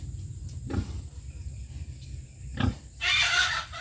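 A pig in a farm pen gives a few short, low grunts spaced a couple of seconds apart, fairly close, over a quiet background with a brief rustle near the end.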